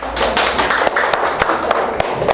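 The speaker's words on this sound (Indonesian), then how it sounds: "Tepuk tangannya mana sayang?" Children applauding together in a classroom, a dense run of brisk claps with a few sharper slaps standing out, close and fairly loud with no talk over them.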